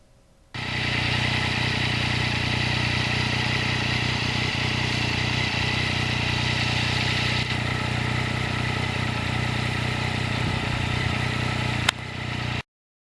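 A 2020 Yamaha MT-09 motorcycle is ridden on a twisty road, its engine humming steadily and fairly loud for most of the time, with wind rush and a sharp click near the end before it cuts out.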